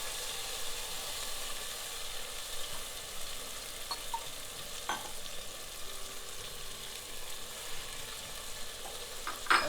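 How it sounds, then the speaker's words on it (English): Masala sizzles and fries in a pan with chopped tomatoes, a steady close crackling hiss. A few faint scrapes and stirring taps sound along the way, and no one speaks. "And now keep frying this for another 10 to 15 minutes, stirring occasionally."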